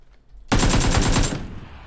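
A short, loud burst of rapid automatic gunfire in a video game, close and dense, lasting under a second before it cuts off, with no talk over it.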